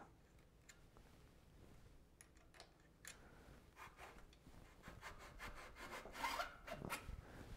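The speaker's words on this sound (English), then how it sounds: "let's go ahead and take this here seat post out" A tight-fitting seat post is worked out of the frame of a Fairlight Faran bicycle during a build, giving faint, intermittent scraping, rubbing and small ticking clicks up close, getting slightly busier toward the end, with no voices.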